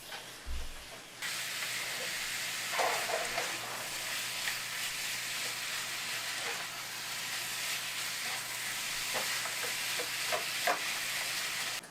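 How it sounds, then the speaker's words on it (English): Steady, loud sizzling of chicken frying in a hot pan, a continuous crackling hiss with occasional sharper pops. "Oh, we're sizzling now."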